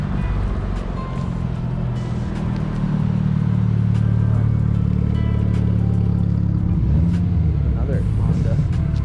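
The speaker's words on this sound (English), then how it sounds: "Oh, we have a clean looking Evo." A Mitsubishi Evo rolls into a car meet at a drive-in with a low, steady engine rumble that swells and holds near the microphone, while people talk nearby.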